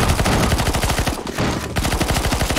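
Sustained automatic rifle fire aimed at an NPC in CS:GO zombie escape, loud and rapid, rattles steadily with a brief lull in the middle before the shooting picks up again.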